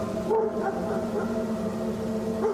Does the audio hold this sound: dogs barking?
yes